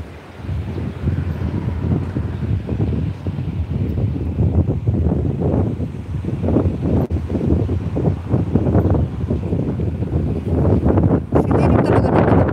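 Strong wind blows outdoors in a steady, loud roar, buffeting the microphone hard with gusty rumbling that never lets up.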